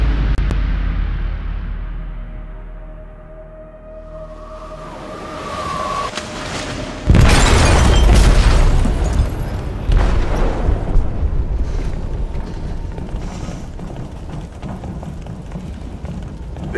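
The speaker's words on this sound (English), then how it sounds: "They detonated an explosive in the hold." A ship explodes in the video game Detroit: Become Human, a sudden heavy boom about halfway through. Loud roaring rumble and crashing noise follow and fill the rest, after a quieter stretch of low ambient sound.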